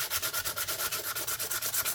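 Sandpaper rubs back and forth along the edge of a small ring made from a 20p coin, a steady rhythmic scratching of about a dozen strokes, close and fairly loud, with no talking.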